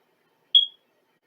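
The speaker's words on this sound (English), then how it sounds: "That's a smoke alarm beep." A smoke alarm gives a single short, high chirp that stands alone in silence.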